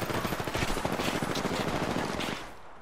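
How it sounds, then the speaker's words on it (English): Sustained rapid automatic gunfire in a video game, dense overlapping bursts at close range for over two seconds, then trailing off into quieter echoes at the end. "I'm getting shot at"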